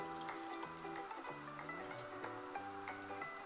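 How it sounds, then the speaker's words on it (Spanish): Chopped red and green peppers, carrot and zucchini are stirred in a pan as they sauté, with a soft continuous sizzle and repeated light scraping and tapping from the utensil. "Vamos a darle unas vueltas a las verduras para que se vayan rehogando lentamente"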